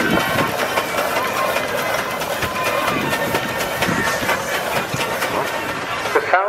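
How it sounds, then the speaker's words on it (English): A Fowler steam engine rolls past at an outdoor steam and vintage rally, giving a continuous hissing, rumbling wash of noise with faint rhythmic knocks, while people murmur in the background. "The Fowler going through at the moment"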